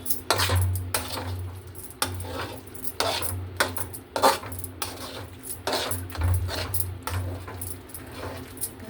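A spoon scrapes and clinks against a pan while an upma mixture is stirred, producing repeated metallic knocks and scraping strokes close up, with no talking.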